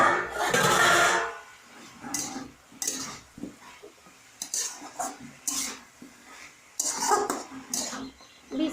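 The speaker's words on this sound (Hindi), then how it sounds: "ढक देंगे, इसको बार बार चलाते रहना पड़ता है।" A spoon stirs jaggery amla murabba in a pot, giving repeated scraping and clinking strokes in irregular bursts, close and fairly loud, with a louder rush of stirring at the start.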